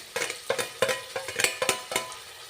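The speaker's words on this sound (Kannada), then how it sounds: "ಕಟ್ ಮಾಡಿರುವಂಥ ಟೊಮೊಟೊ ಇನ್ನೊಂದು ಇದಕ್ಕೆ ಹಾಕೋಣ ಒಗ್ಗರಣೆ." Chopped tomato being stirred into hot tempering in a pan for tomato biryani: rhythmic scraping strokes of a spoon against the pan, each with a brief sizzle, repeated quickly and close up.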